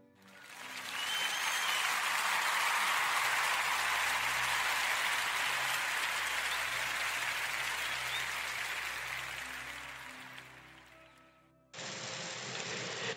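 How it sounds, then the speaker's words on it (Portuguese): A long, dense round of applause from a large audience swells quickly, holds steady for several seconds, then gradually thins and fades before a brief burst of other sound at the end. "E quero pedir a toda a gente uma grande salva de palmas,"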